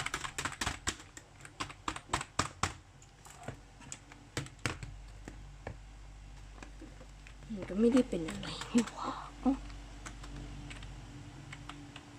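A computer keyboard seemingly typing by itself gives off a quick run of sharp, close key clicks through the first five seconds, then scattered taps as a voice speaks over the later part.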